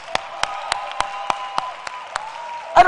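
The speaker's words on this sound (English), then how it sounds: "A big round of applause for Nedbank for doing that" Crisp, evenly spaced claps, about ten in a steady beat, ring out over a sustained tonal hum at a live arts and culture event, ending in a louder jumble of sound.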